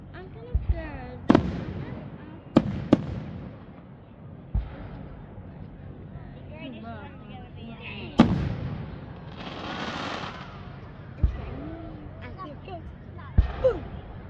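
Fourth of July fireworks at Nara Park in Acton, Massachusetts burst in sharp booms and crackles at irregular intervals, some loud and close, others softer, with people's voices murmuring between the explosions.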